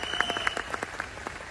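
A crowd at a motivational business gathering claps briefly and fairly faintly, with separate claps heard over soft room noise and a faint high whine.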